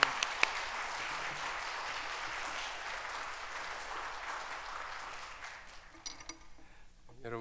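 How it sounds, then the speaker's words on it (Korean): Congregation at a Korean Presbyterian church Sunday service in Chicago claps warmly in sustained, dense applause that holds steady and then tapers away near the end. "뜨거운 열렬한 박수로 목사님 맞아주시기 바랍니다"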